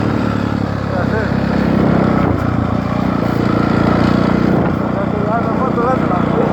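Dirt bike engine running continuously at steady, fairly loud volume while riders talk over it outdoors, the motor holding a rough drone with slight rises in pitch.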